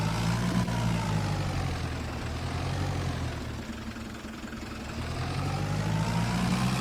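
Tractor engine in Farming Simulator 25, a steady low idling rumble that dips slightly midway and then swells again while the vehicle is moved, close and continuous with no talk over it.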